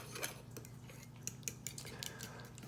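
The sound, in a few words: stirring lemon juice into cocktail sauce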